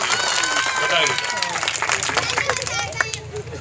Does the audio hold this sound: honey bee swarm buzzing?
no